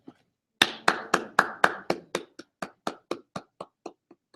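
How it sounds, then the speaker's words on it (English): A class claps hands together in a university lecture, about fifteen sharp, close claps in a steady, slightly slowing rhythm that fades toward the end, with no talking. "See, that was a real clap, not a slow clap"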